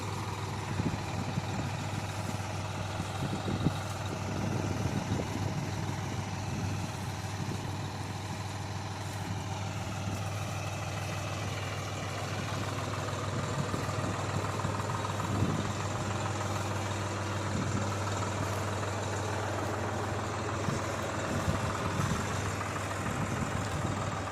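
A New Holland TT4.55 tractor engine idles steadily with a low, even rumble, running smoothly and continuously without revving, nearby and alone.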